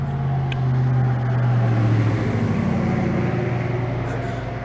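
Road traffic passes by outside, a steady loud rumble with a low engine drone swelling and fading, continuous and near.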